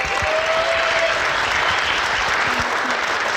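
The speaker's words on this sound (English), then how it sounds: "Let's give them all a big round of applause." Theatre audience applauding sponsors at a Bluegrass Theatre Guild performance, a dense, steady wash of many hands clapping close by throughout, with a faint tone and a few murmurs underneath.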